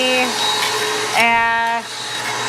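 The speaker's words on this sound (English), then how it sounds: "it's like a shop vac, but it's made for ashes" An ash vacuum, a shop-vac-style machine for ashes, runs while sucking up bark and ash from a wood stove: a loud steady whine with a brief surge in pitch and airflow partway through.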